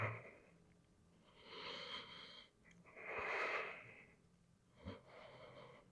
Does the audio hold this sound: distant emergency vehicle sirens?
no